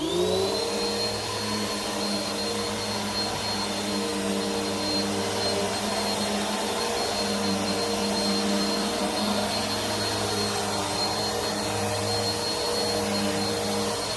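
A Bissell Powerforce Helix 2191U upright vacuum cleaner runs continuously up close with a loud, steady whooshing roar and a faint high whine, and no voices.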